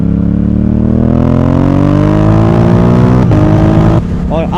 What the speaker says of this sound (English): I absolutely love short shifting on this bike.